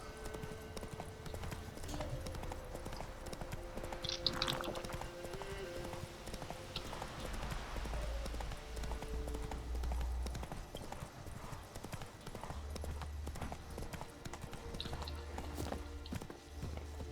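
Horse hooves clip-clop steadily at a trot in the video game The Witcher 3, with continuous game ambience and music underneath and no talk.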